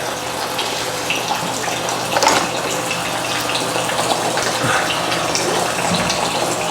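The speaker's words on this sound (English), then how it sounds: "Now while that's filling with water," Water gushes from a tap into a container holding rice, a steady, loud, close splashing rush that keeps going without pause and with no one speaking.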